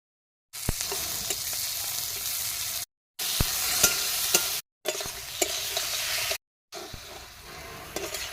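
A curry base is sautéed in a pan with stirring, a close sizzling hiss broken by occasional scraping knocks, heard in four separate bursts with silent breaks between them.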